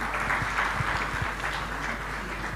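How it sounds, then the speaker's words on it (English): Audience applause for former Nigerian president Chief Olusegun Obasanjo at a governance event, a soft, distant smear of clapping from a large room, with a steady low hum underneath. "Can we please give him a round of applause?"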